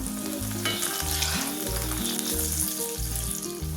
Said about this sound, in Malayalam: ഇനി ഇതൊന്ന് ഇളക്കി കൊടുക്കാം കേട്ടോ. ഇതൊന്ന് മറിച്ചിടാം.